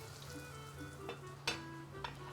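Mushrooms frying in hot oil in a pan, a quiet steady sizzle with a few sharp crackles and pops, close and faint, without talking.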